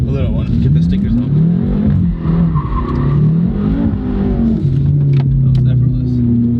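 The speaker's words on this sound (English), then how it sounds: "maybe a little U-turn, just a very slight, just to break in the tire" BMW M6 making a slight, slow U-turn to break in new tires, its engine humming and rising and falling close by with faint tire scrub, while people talk over it throughout.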